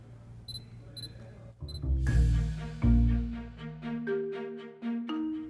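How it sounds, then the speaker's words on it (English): Sony Alpha a7 II camera autofocus locking on, with three short, quiet focus-confirmation beeps followed by the rising swell of a musical backing track. "you'll hear the focus confirmation"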